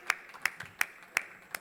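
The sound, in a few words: audience applause for a panelist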